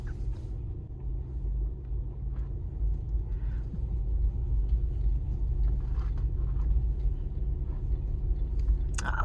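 A lorry passes a horse being ridden alone on a country road, its engine giving a low, steady rumble that stays close and loud for the whole stretch.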